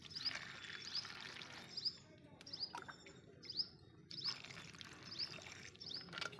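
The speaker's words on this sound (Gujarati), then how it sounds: "બટેટા નાખ્યા, આપણે એમાં પાણી નાખીશું।" Water poured onto whole potatoes in a pot in a village kitchen: a soft, steady splashing wash in two stretches with a quieter gap between them. Birds chirp faintly in the background.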